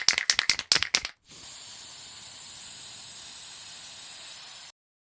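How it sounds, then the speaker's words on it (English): Before the spray starts, a spray can of fluorescent safety orange paint rattles rapidly several times. A steady, close hiss of spraying then runs for about three and a half seconds and stops abruptly. "and this is the spray paint that we buy."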